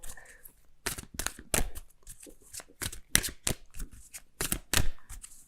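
Tarot abundance cards shuffled by hand in a series of sharp riffling bursts, close and crisp, with brief pauses between the rapid flurries and no talking.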